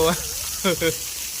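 Heavy rainwater gushes like a stream through a village lane during a cyclone downpour, a steady close wash of noise running beneath a few brief spoken words.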